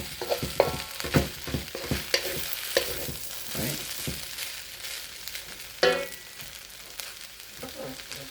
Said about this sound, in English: Shrimp is cooking, the heat from the lo mein and the cabbage and the burner.